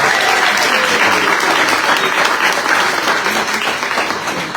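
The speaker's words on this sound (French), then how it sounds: "Vous l'applaudissez très très fort." An audience at a cycling tour presentation in Guadeloupe claps loudly for a rider, a thick, sustained round of applause close by that eases off slightly toward the end.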